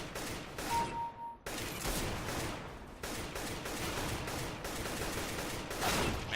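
Rapid gunfire in the video game CS:GO, with dense bursts of shots and a sharp break between volleys, loud and close.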